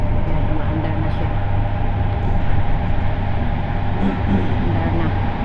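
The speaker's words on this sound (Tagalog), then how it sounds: "Nakasakay na tayo ng tren. Kung saan ay tayo pupunta na ng ating trabaho. Kaya umaandar na siya." A moving underground subway train rumbles steadily throughout, with a constant low hum and rail noise close by inside the carriage.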